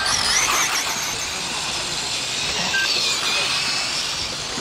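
A Ford RS200 race car speeds past on a circuit during a race day, a loud, sustained high-pitched engine whine and tire squeal holding steady for several seconds with no voices.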